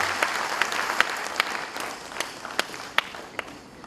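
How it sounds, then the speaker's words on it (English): Audience at a university convocation applauds degree and medal recipients: a steady patter of many hands, with sharper individual claps cutting through roughly every half second, moderately distant and alone without speech. "please give a round of applause to all degree recipients, all medal recipients"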